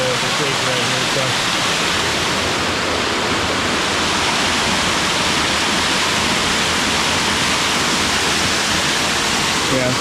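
A Blue Ridge creek rushes loudly and continuously close by, a dense steady roar of falling water filling the whole span with no pauses.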